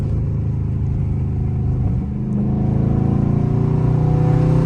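A Dodge Scat Pack car engine rumbles low and then revs up, its throaty drone rising and holding steady near the listener.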